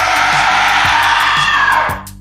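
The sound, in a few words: piercing scream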